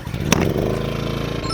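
A DeWalt low-noise generator's engine catches with a brief clattering burst and then settles into a steady, fairly loud running drone close by, with no talk over it.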